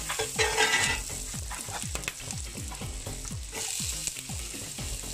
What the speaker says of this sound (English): So here's some butter to fry the onions and chilies.